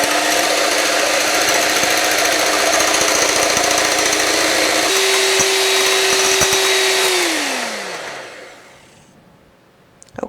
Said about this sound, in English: So I'm going to start by whipping up my egg whites just by themselves